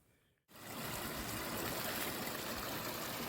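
Steady broadband rush of flowing water begins abruptly after a brief quiet start and continues evenly, like a nearby stream running under brush, on a muddy Appalachian Trail section.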